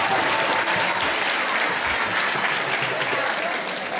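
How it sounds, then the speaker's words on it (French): Dense, sustained applause from a crowd honoring school dictation and math contest winners at a pilgrimage gathering, a thick even wash of clapping at steady loudness throughout. "Applaudissez pour elle encore."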